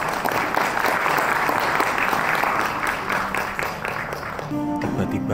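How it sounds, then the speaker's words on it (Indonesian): Audience applause at a Korea Indonesia digital content conference, a full, steady wash of clapping that tapers slightly, with a brief tone and voices entering near the end. "Boleh beri tepuk tangan?"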